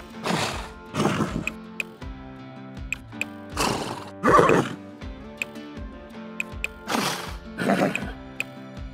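Horse neighing and whinnying in The Sims 4, several separate calls in bursts with short pauses between them, fairly close and clear with no talk.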